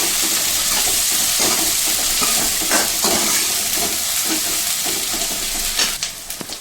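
Onion with ginger garlic paste fries loudly in a pan, a dense continuous sizzle with occasional stirring scrapes, close and with no talking.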